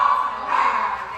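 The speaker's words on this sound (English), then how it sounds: "dogs are barking at me" A dog barks and yips nearby in a single short, loud burst.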